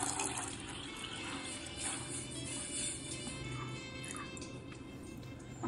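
Two large glasses of water pour into a pan on a gas stove, giving a steady close splashing flow that runs throughout with faint kitchen noise behind it.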